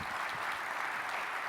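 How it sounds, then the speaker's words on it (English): An audience at a keynote claps for the 2025 program committee in a dense, sustained wash of applause that stays steady and fairly loud for the whole short stretch. "Round of applause for the current 2025 program committee"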